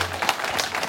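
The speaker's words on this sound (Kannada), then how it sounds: "ಹರ್ಷೋದ್ಗಾರದ ಚಪ್ಪಾಳೆ, ಕರ್ತಾಳನದ ಚಪ್ಪಾಳೆ." Audience applause at a Kannada stage event as a newlywed couple comes onto the stage, a brief burst of dense, continuous clapping from a crowd, with no talk over it.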